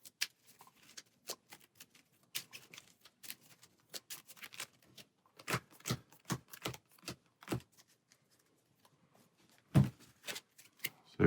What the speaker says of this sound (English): we'll go ahead and shuffle our hero deck and draw our 6 cards to get started